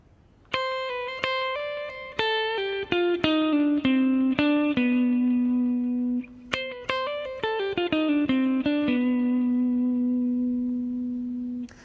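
Bass guitar lick in the B altered scale, a run of clearly separated picked notes with slides that settles on a sustained low note, then repeats the phrase and rings out; played alone, close and steady in volume.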